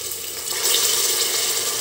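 Ginger garlic paste going into hot frying onions in a pan while cooking mutton paya salan, giving a steady broadband sizzle that swells after a moment and holds loud and close.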